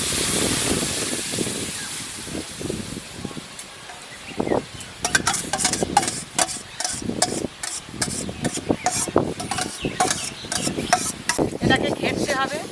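Ripe mango pulp is stirred and scraped in a hot wok while making mango leather, giving repeated rubbing, rasping strokes in an uneven rhythm, close and fairly loud.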